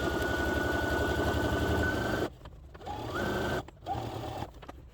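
A sewing machine runs in fast, steady bursts of stitching while top stitching a wide hem on a slip-through neck scarf, stopping and restarting several times.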